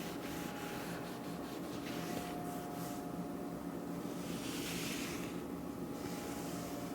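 A 400-grit sanding block rubs back and forth over a wooden router bit rack between finish coats, a soft, close, continuous scratching with faint strokes and no talking.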